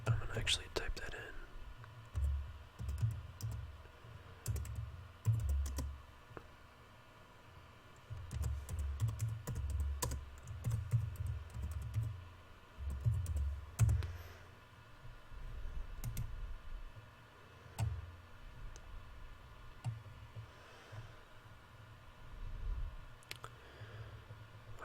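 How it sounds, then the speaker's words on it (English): Soft keyboard typing in bursts of quick clicks, with a whispering voice nearby during an ASMR session. "which I'm gonna actually type that in"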